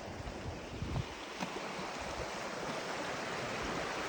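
Water from a stream and waterfall in the Yorkshire countryside rushes steadily as a broad, constant hiss, heard faintly from a short distance with no voices.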